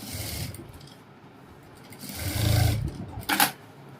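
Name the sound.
sewing machine stitching blouse lining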